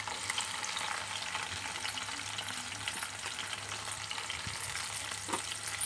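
Onions frying in oil for a tomato and fenugreek curry make a continuous soft hiss and crackle, with occasional light stirring knocks and no speech.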